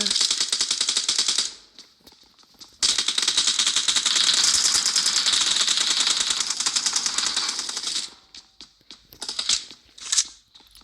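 Rapid automatic gunfire in PUBG Mobile rattles loud and dense in two long bursts, followed by scattered shorter shots and clatter, with a voice talking faintly underneath.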